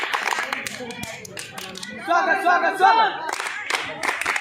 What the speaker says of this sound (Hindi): टोली स्वागत ताली बजाओ